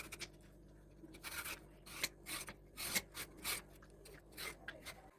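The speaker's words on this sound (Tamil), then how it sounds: "வாழைக்காயை சீவி எடுத்துக்கலாம்" Raw plantain shaved into thin slices: repeated close, raspy scraping strokes in an uneven rhythm, about a dozen in quick succession, with no speech.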